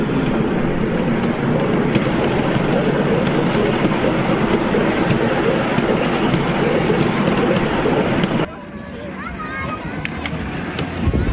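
Festival ride train runs along its track with a steady loud rumble and clatter, close by, then drops to a quieter roll as it passes.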